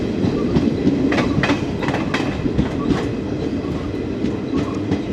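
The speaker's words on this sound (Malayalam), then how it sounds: "നമ്മൾ ചേർത്തല സ്റ്റേഷൻ്റെ പ്ലാറ്റ്ഫോം നമ്പർ 2 പ്രവേശിക്കുകയാണ്." The 12076 Jan Shatabdi Express rumbles into platform 2 at Cherthala station, heard from on board, with steady wheel clatter and rhythmic clickety-clack over rail joints, loud and close throughout.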